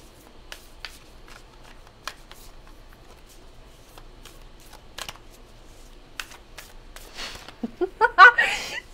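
A deck of tarot cards is shuffled in a series of crisp, separate riffles and snaps, close and fairly quiet, followed near the end by a burst of louder rustling and laughter.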